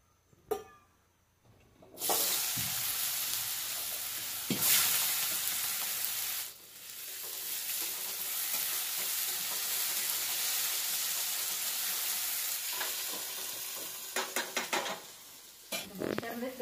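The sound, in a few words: roasting peanuts in a pan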